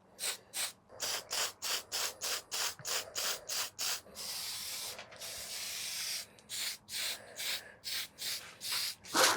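Short bursts of fine surface primer spraying onto a 3D-printed helmet and its small parts, a rapid run of about a dozen close hissing puffs, then one longer continuous spray, followed by more quick bursts.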